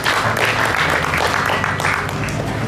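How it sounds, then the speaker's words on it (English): Audience applause at a stage show at the Nebraska State Fair, a dense steady wash of clapping that runs the whole moment with mixed crowd noise underneath. "Give her a big round of applause."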